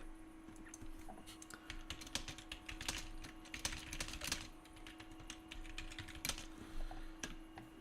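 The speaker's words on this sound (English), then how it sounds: "you hear it. I don't know how to change my setup so you don't hear the keyboard" Computer keyboard typing with quick, irregular clicks and clacks, fairly close and steady throughout, over a low constant hum and faint background music.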